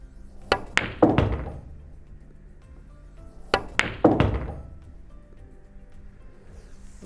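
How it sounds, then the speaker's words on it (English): A pool cue strikes the cue ball for a stun shot, giving two separate clusters of sharp, close wooden clicks and knocks, each a quick burst of three impacts, with quiet room tone between them. "I'm going for the stun shot here"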